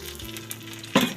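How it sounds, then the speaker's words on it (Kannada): Egg dropped into a hot pan for egg rice, a sudden loud sizzling burst near the end after a quieter frying hiss. "ಈಗ ಮೊಟ್ಟೆ ಹಾಕ್ತಾಯಿದ್ದೀನಿ"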